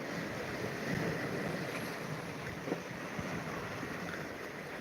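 Waves rolling onto the Lake Huron shore beside a balcony, a steady soft wash of surf with light wind and occasional small splashes, unbroken and moderately quiet.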